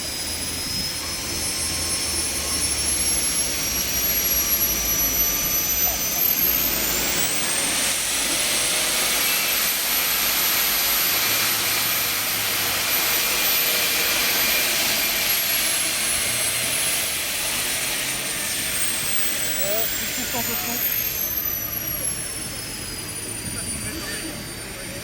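An Aérotrain jet engine spools up, a loud sustained roar carrying a rising whine that climbs in pitch and then holds steady, with a second whine sweeping late on, and people talk underneath.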